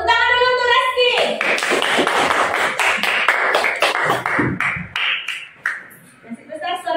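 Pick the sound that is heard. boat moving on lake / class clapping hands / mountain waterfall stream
class clapping hands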